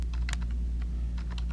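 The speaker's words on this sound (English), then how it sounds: "I'm just using my keyboard and typing in the numbers, pressing down" Numbers being typed on a computer keyboard produce a quick run of light, close key clicks with irregular rhythm over a steady low background hum.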